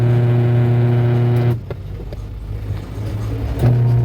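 Eureka washing machine motor with a weak pulsator spin: a steady low electric hum that cuts off abruptly, followed by faint rattles and clicks, then the humming motor starts up again near the end.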